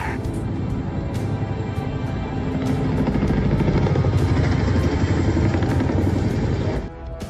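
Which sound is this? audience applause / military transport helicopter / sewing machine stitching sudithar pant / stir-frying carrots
military transport helicopter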